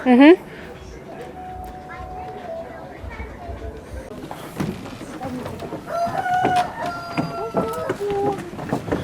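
A rooster's crow rings out loudly at the start, followed by a busy outdoor mix of people talking and other bird calls, at a resort in Alanya, Turkey.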